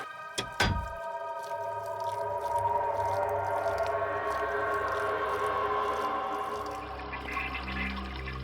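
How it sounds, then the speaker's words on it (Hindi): An open bath basin tap runs in a basement, a dull thud giving way to a swelling, steady gush of water that carries on for several seconds. "ये पानी की आवाज तो बेसमेंट में से आ रही है।"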